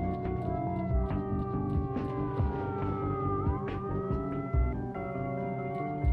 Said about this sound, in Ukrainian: А ще мені потрібно виробити цю сирену, тому що вона мене дістала.